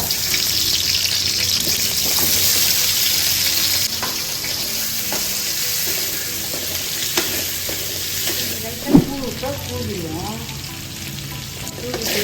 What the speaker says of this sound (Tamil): இந்த உருளைக்கிழங்கு வந்து லைட்டாக இதில் வறுத்து எடுத்துருவோம்